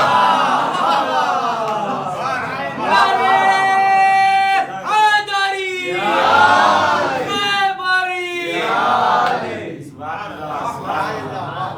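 An audience at a majlis gathering chants a slogan together in loud, rhythmic bursts of many voices, rising and falling in several waves, with a speaker's voice between the chants.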